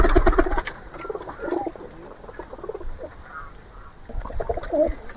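Pigeons in a loft coo in low, soft bursts at close range, with a few louder rounds near the start and end and quieter gaps between.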